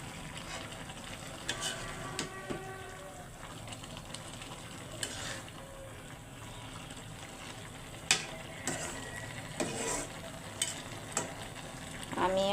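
Spinach and tomato cook slowly in a pan, a soft continuous sizzle with occasional scraping stirs and light clicks of the utensil against the pan.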